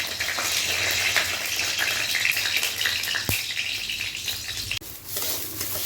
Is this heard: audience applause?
no